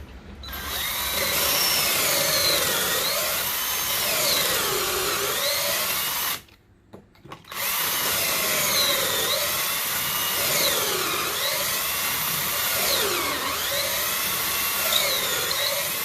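A power drill bores pocket holes through a Kreg K5 pocket hole jig, whining loudly and close with rising and falling pitch as the bit cuts, then stopping for about a second before grinding on steadily.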